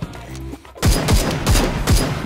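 Rapid gunfire in the shooter game Super People: a short run of four or five loud, evenly spaced shots following a brief quieter stretch, with no talking.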